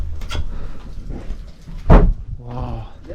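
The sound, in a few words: heavy old watchtower door being closed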